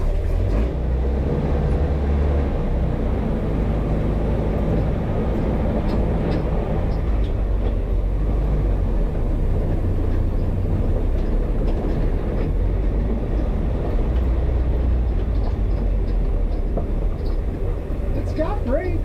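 A 1967 International Scout 800 rolls along in first gear, its engine a steady, loud, low drone with constant road and cabin rumble that never lets up.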